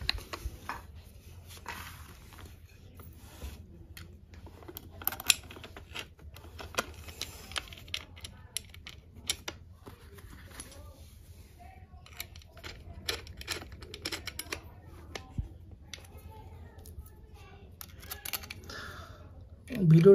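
Nuts are fitted by hand onto a slingshot rifle, giving a string of small, sharp metallic clicks and taps at an uneven pace, fairly quiet and close, with a voice speaking at times.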